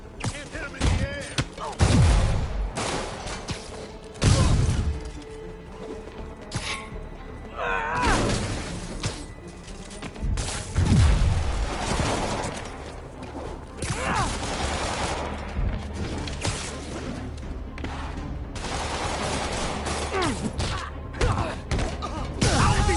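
Enemy gunfire in the Spider-Man PS4 video game: bursts of rapid shots mixed with heavy thuds and mechanical clanks, continuing in waves amid combat noise, with shouting voices now and then.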